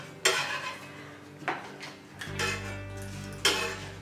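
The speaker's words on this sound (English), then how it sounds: "So he's gonna crack them one at a time into a small bowl and then put it into a big bowl" Six eggs cracked one at a time into a small bowl in a home kitchen, heard as a few sharp, close taps and clinks against the bowl spaced about a second apart, with faint handling noise and a low hum between them.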